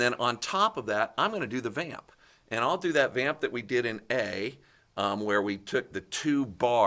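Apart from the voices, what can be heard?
None of the usual background noises is heard.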